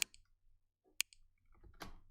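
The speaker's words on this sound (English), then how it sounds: "It's more snappier and clappy" Snappy high-end clap layer for a melodic techno beat in Ableton, two crisp bright clicks a second apart, each with a quick echoing tail, then a soft noisy rustle.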